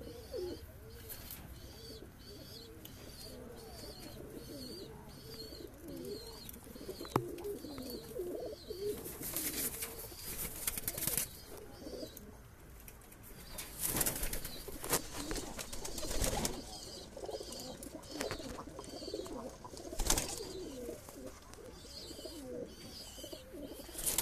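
Pigeons cooing softly and repeatedly inside a loft flying cage, with occasional chirps and fluttering among the birds.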